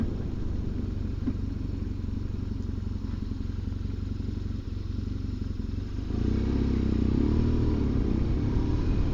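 A motorcycle ridden lightly loaded along Orkney island roads, its engine a steady close drone with wind rumble, deepening and growing louder after about six seconds as the revs rise.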